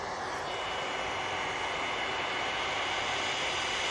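An Aer Lingus airliner approaches over Wythenshawe toward Manchester Airport, its steady broadband engine roar filling the air loud and continuous without a break.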